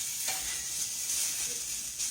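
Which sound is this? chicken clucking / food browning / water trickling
food browning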